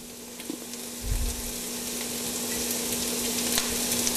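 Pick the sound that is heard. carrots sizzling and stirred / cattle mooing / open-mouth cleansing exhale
carrots sizzling and stirred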